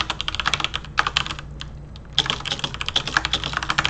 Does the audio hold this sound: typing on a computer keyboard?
yes